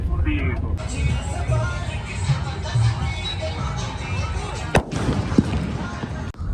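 Firecrackers go off beside the Ganga in Rishikesh: one sharp, loud bang stands out midway, with a fainter pop later, over constant outdoor bustle and people talking loudly.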